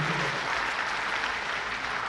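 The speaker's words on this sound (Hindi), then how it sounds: "किसान भाइयों, एक बार जोरदार तालियां" A large crowd of farmers at a political rally in Sri Ganganagar applauds loudly: dense, steady clapping throughout, close and uninterrupted.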